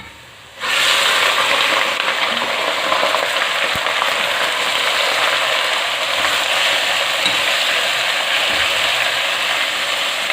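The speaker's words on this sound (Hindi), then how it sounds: "प्याज ब्राउन हो चुकी है, अब इसमें मैं कीमा डाल रही हूँ।" Minced mutton hits browned onions in a hot pan and bursts into a loud, continuous sizzle that holds steady with faint stirring scrapes throughout.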